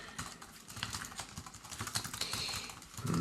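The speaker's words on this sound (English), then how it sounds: "I'm getting a little bit better at typing this boilerplate." Rapid, continuous typing on a computer keyboard while writing code, a dense stream of close, crisp key clicks with no pauses and no talking.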